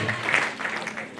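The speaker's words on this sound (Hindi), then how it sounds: "लेडी टाइग्रेस इंदु पात्रा जी मैम के लिए जोरदार ताली लीजिए" Audience applause at a recognition event in Jamshedpur, honouring Indu Patra: a dense, steady patter of many hands clapping together, fairly close and continuous through the short stretch.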